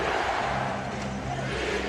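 Arena crowd at Staples Center during a 2001 NBA playoff game between the Lakers and Philadelphia, a dense, steady roar of fans chanting for defense that fills the whole moment without a break.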